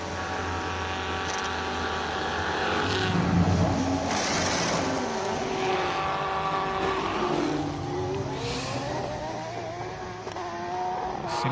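A loud, high-revving race car engine climbs through the gears launching uphill at the Simola Hillclimb, pitch rising and dipping as it accelerates steadily away, no voices present.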